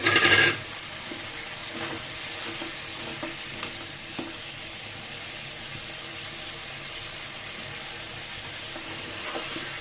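Radishes added to a pan of well-cooked spices for a dried fish curry, landing with a brief louder clatter, then a steady close sizzle with intermittent stirring and scraping sounds.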